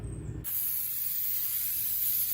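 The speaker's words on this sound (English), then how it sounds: "healthy spray to clean off any grease or mill scale" A sharp, continuous aerosol brake cleaner spray hisses loudly and steadily after a short pause, close up and uninterrupted, cleaning grease off brake parts on a 2005 Subaru WRX.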